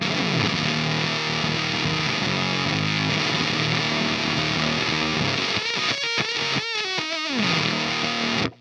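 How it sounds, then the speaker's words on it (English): An electric guitar plays through an Electro-Harmonix Lizard Queen fuzz pedal with the octave turned fully up, loud and buzzy, with bending, warbling notes toward the end. "let's turn up the octave all the way."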